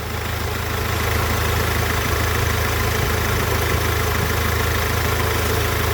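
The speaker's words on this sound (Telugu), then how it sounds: "ఇక్కడ చూసారా ఏసీ కంప్రెషర్కి వచ్చే పుల్లి ఒకటి సౌండ్ వస్తుందండి" A 2010 Mahindra Scorpio idling with the bonnet open, its diesel-like engine a steady rumble close by, with a whirring, faintly knocking noise from the AC compressor pulley running underneath throughout.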